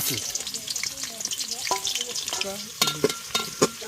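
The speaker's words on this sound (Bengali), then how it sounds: "প্রথমে আমি এখানে তেল দিয়ে নিতেছি, সয়াবিন তেল। এখন দিয়ে দিলাম পেঁয়াজ।" Onions frying in soybean oil in a pan for biryani, giving a steady crackling sizzle with scattered pops and a few sharper stirring clinks near the end, heard close with no talk.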